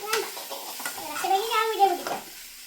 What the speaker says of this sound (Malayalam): വെള്ളമുണ്ട് എന്നാ ഇളക്ക് അല്ലെങ്കിൽ അത് അടിയിൽ പിടിക്കും ഞാൻ ഇളക്കണം